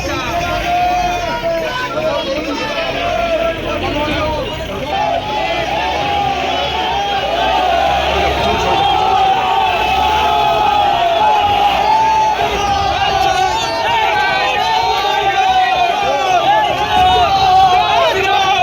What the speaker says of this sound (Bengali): তৃণমূল নেতাকে লক্ষ্য করে তোলা হয় চোর চোর স্লোগান।